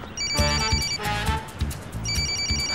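A mobile phone rings indoors with a repeating electronic ringtone melody in bursts, loud and close, with rhythmic buzzing pulses beneath and no one speaking over it.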